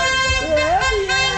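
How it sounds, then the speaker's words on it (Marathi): A car horn toots in a short burst as a vehicle pulls up at a farmhouse gathering in Murbad, the honk bright and close over background chatter and voices. "आपली गाडी आली बघा, आपली गाडी आली."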